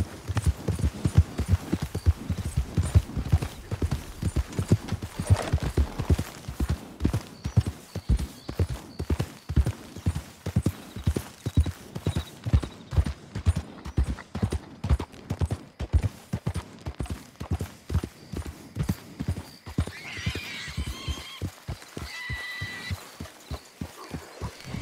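Rhythmic hoofbeats of a horse galloping in Red Dead Redemption II, a steady near clip-clop pounding throughout with a faint higher tone near the end.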